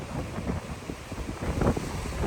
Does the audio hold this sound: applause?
no